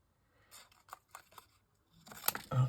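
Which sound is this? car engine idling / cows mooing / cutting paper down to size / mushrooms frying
cutting paper down to size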